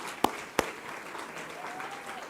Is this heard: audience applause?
yes